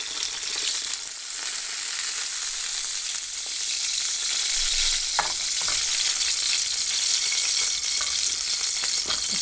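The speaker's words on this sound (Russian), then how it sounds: "Заканчиваем жарить уже последние чебуреки наши." Hot oil sizzles and crackles steadily as meat-filled chebureki pastries deep-fry, with occasional louder pops and bubbling bursts close by.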